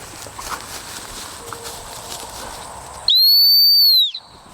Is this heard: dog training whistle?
yes